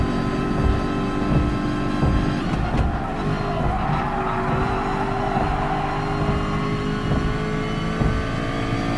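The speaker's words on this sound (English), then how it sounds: "You'll notice that I'm holding the gear longer while past redline." A race car engine in Gran Turismo Sport screams at high revs past redline, loud and sustained with held gears, some tire squeal and rapid shifts, alone with no talk.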